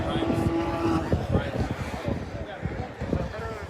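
An Audi B8 allroad with a swapped RS5 V8 engine runs with a deep, throaty rumble beneath someone talking close by, the motor steady with slight surges, at a car gathering at Lime Rock Park.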